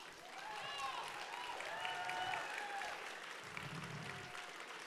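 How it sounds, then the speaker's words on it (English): A crowd at a state championship event cheers and claps for favorite mentors, with shouts and whoops rising over sustained applause in a large hall. "everyone, please cheer for your favorite mentor"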